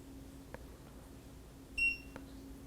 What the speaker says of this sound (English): By default, if you press the turn signal, there's a beep.